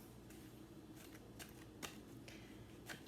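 Tarot cards shuffled by hand, giving soft riffling swishes and a few sharper flicks at close range, faint against a low background hiss with no voices.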